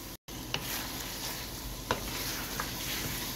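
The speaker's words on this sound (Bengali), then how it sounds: "এখন আমি চিকেনগুলো দিয়ে দেব" Chicken pieces fry in sizzling masala in a pan, giving a steady, moderate hiss with a few sharp clicks of stirring.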